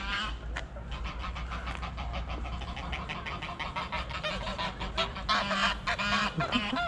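Ducks honking and squawking in a rapid, agitated chorus, close and persistent, over outdoor city background rumble in London.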